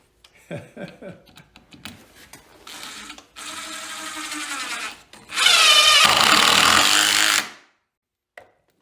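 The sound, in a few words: driving a screw with a Crescent Vortex bit holder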